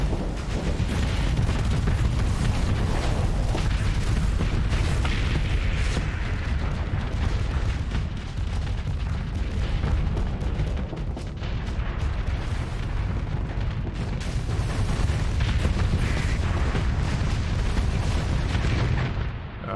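Mortar fire in the space combat game Starsector, a dense, continuous roar of booming impacts and rumbling blasts that holds loud and steady throughout, with no talk.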